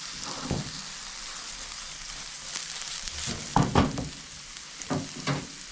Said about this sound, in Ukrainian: Декілька хвилин воно має обсмажитися з маслом.